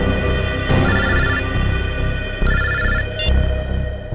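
A telephone rings twice in a tense police-drama scene, each burst a bright electronic trill lasting about half a second, loud over a dense music and effects backdrop with no speech over it.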